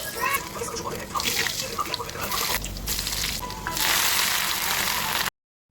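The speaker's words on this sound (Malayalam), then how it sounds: "എന്നിട്ട് കടുക് വറക്കുക." Mustard seeds crackle and sizzle in hot oil as a spice tempering for a curry, a steady broadband frying hiss with scattered pops that swells louder near the end before cutting off.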